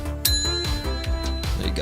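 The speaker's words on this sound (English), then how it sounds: "You get the bell." A bicycle-style bell is rung several times in quick succession, bright metallic dings with a long ringing tail, close and loud with no talking.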